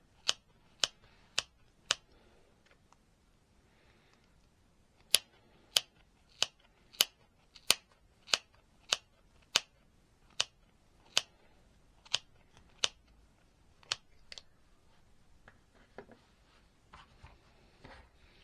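Scissors cut yarn around the middle of a small crochet pom pom with a run of crisp, sharp snips, some evenly spaced and some in quick bursts, close and alone with no talking.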